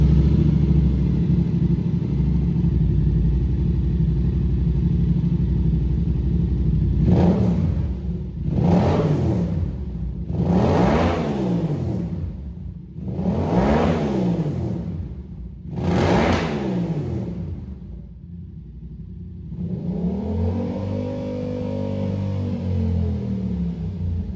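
A hot Yamaha R7 engine with an M4 full exhaust system, no quiet insert, idles with a loud, raw exhaust note, then revs sharply five times in quick bursts before settling back to a rough idle.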